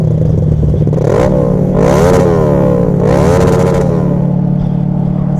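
Kawasaki ER6F Ninja 650 motorcycle being ridden, its engine droning loud and close with wind noise and repeated rising revs as it accelerates through gears.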